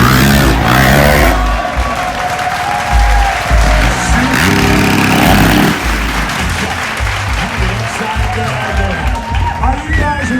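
Crowd at a motocross show at the Calgary Stampede cheering and clapping, loud and close, with pumping music underneath and engine noise mixed in.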